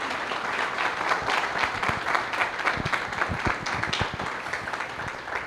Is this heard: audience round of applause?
yes